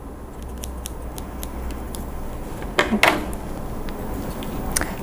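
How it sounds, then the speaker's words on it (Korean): Scissors snip stray fibers off a handmade rattan tea coaster, giving a short cluster of close, crisp cuts around the middle over a quiet room background. "잔털이 보이면 가위로 다듬어 주세요"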